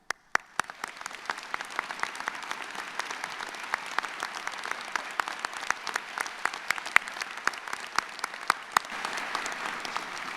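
Graduation ceremony audience at Western Piedmont Community College applauds faculty and staff, a broad steady roar of clapping with sharp individual claps popping out near the microphone, continuing without pause.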